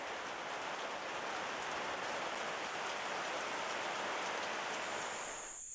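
Heavy rain falling at night in the Gabon rainforest, a dense, steady roar of drops on leaves and surfaces that stays loud and unbroken throughout.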